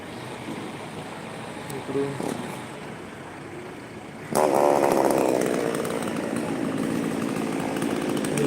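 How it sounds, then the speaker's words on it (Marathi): Chainsaw cutting a roadside tree on the Panjim–Mapusa road in Goa, starting abruptly midway as a loud, sustained engine whine over steady traffic and outdoor background noise. "झाड कापण्याचं काम सुरू आहे"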